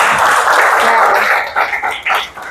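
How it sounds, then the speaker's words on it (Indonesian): A classroom of students claps for a classmate, a dense burst of applause that starts strong, then thins and fades into scattered claps near the end. "Oke, tepuk tangan untuk Giselle."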